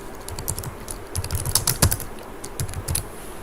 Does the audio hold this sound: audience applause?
no